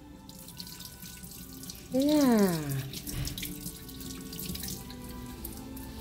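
Water from a touchless tap in a school washroom runs into a sink with a sudden gush and falling pitch, then settles into a steady splash; a voice speaks briefly over it.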